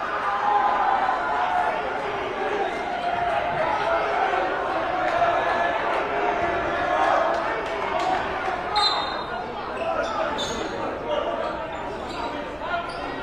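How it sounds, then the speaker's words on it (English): Gym crowd at a high school boys basketball game, Braintree vs Walpole, roars after a big block, a sustained loud cheer with an announcer talking over it. "Crowd really liked that one"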